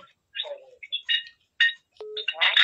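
A telephone rings for an incoming call with short electronic ringtone bursts of bright, melodic tones separated by brief silences, near and clear.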